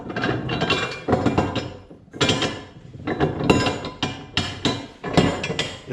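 Daytona 3-ton steel jack stands from Harbor Freight being ratcheted, giving bursts of sharp metallic clicking and clanking in several quick runs with short pauses between them, close up and with no voices.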